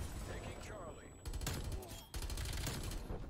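Gunfire from a sniper in the first-person shooter Black Ops Cold War, with bursts of shots that start abruptly and overlap continuous game sound and faint voice chat.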